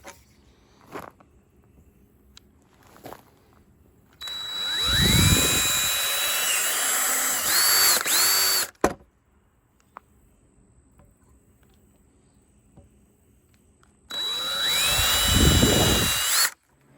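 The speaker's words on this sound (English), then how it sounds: "So I'm putting pilot holes in it to make it stronger." A power drill bores pilot holes into a wooden sandbox frame in two loud whining bursts that rise in pitch and strain as the bit bites, close up, separated by quiet gaps with a few light knocks.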